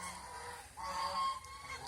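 Farm ducks or geese in a domestic duck flock honk and call in a steady run of overlapping nasal calls, fairly close and moderately loud, with a brief lull before the calling swells again.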